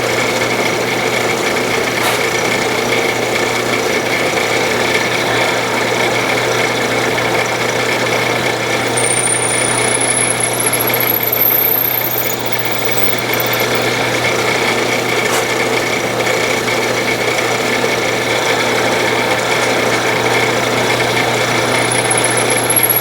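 Steady power-drill whine boring pin holes through a hand-forged carving knife handle, running continuously at close range with a constant motor hum and a few brief higher squeals, no talking.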